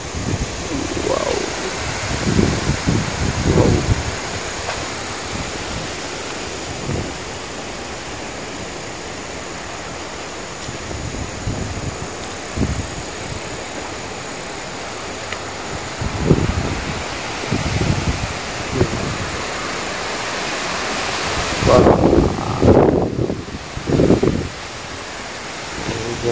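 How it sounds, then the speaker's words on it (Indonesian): Strong wind roars steadily through trees in Korea, with recurring gusts and rustling branches, and a louder buffeting surge near the end that hits the microphone. "Anginnya sangat kencang."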